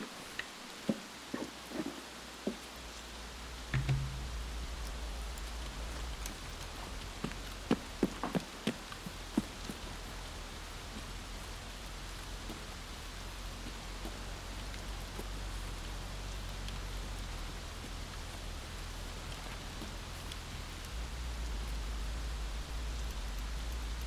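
Steady rainfall in the game Escape from Tarkov, a constant even hiss of drops on surfaces, with a few sharp ticks and soft footsteps early on, no speech.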